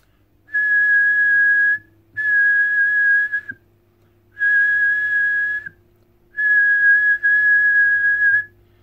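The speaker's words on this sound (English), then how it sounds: "It's very hard to get a constant tone when you're whistling like that." A person whistles a steady constant tone in four sustained bursts of about a second each, separated by short pauses, heard close and clear over a faint low hum near an Icom IC-718 HF transceiver.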